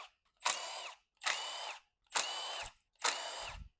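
A ratchet backing out 10mm bolts on a BMW M57 diesel engine during a teardown, four separate bursts of quick clicking, each about half a second long, with short pauses between them, close and fairly quiet.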